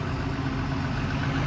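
Two vehicles rev to pull a loaded truck stuck in rain-soaked ground: a loud, continuous low engine drone holds steady and close throughout.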